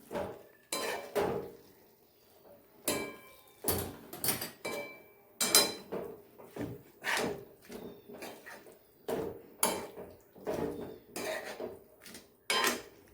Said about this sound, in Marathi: त्याला छान मिक्स करून घेऊया